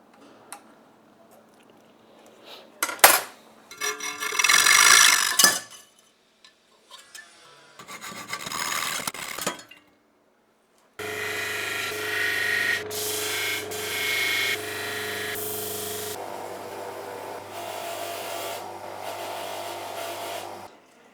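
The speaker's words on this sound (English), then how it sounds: "grind off the original anodizing on here" An aluminium back panel of a PC case being ground to remove its original anodizing, with loud harsh rasping bursts in short separate passes and then a longer sustained grinding stretch with a steady tone underneath.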